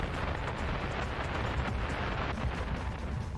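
An explosion on a train, staged as an audio drama effect, produces a loud, sustained roaring rumble with crackling debris that fills the whole stretch without letup, and no voices are heard.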